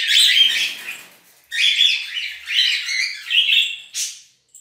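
Caged birds at a breeding aviary calling in bright bursts of chirps, tweets and squawks, loud and close, with short gaps between phrases and no voices.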